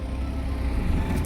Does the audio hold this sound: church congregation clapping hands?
no